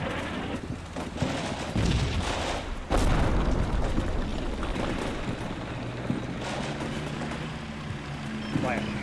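Booming artillery fire in the Combat Mission Black Sea wargame during a US city fight, heavy low blasts and rumbling impacts repeating through the clip over a constant background of wind-like noise.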